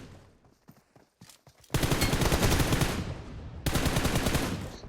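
Automatic weapon fire in the mobile shooter PUBG Mobile: after a few scattered single shots come two long, loud, rapid bursts of machine-gun fire with a short gap between them, close and without voices.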